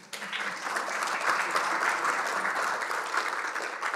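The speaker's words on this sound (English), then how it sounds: "Give him a round of applause," Audience applause for a child helper at a talk on water security, a steady, moderately loud round of clapping from a room full of people lasting several seconds.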